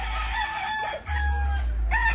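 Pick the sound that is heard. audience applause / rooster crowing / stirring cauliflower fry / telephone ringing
rooster crowing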